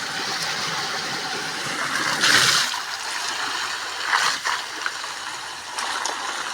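Water gushing from a motor pump as drinking water is filled on a farm, a steady rushing flow with a low mechanical hum and a few louder splashing surges, no talking.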